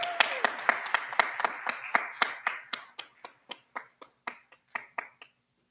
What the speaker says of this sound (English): Please give them a round of applause as they come forward.